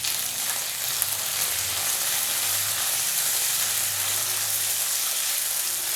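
Okra, sautéed earlier and set aside, sizzles steadily as it goes back into a hot pan for a Kerala-style vendakka dish, a continuous even frying hiss with a faint clatter near the start.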